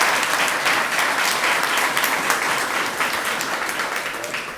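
Steady, dense applause from an audience at a museum renovation celebration in Kansas City, sustained at an even level throughout and easing off only slightly toward the end.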